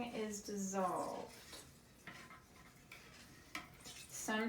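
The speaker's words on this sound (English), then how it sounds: "I'm going to very carefully mix this, and I'm going to mix this until everything is dissolved" A spoon stirs Caffenol developer chemicals, including washing soda, in a container until they dissolve, making soft scraping and clinking strokes close by under a person's speech.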